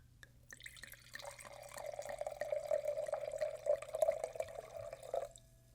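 Wine being poured into a glass, recorded close in ASMR style, making a steady liquid trickle and gurgle that builds over several seconds and then stops, with no talking.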